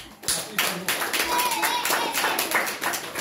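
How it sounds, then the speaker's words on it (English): An audience claps together during a spiritual class, a steady patter of many hands lasting a few seconds, fairly close and even in loudness, with a voice heard briefly at the start. "Please clap for him."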